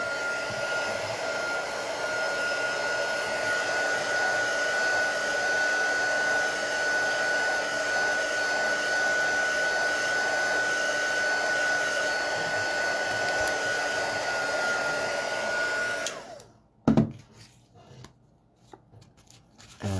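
A hair dryer blows steadily and loudly over a craft project for about sixteen seconds, then cuts off, leaving a few faint handling noises.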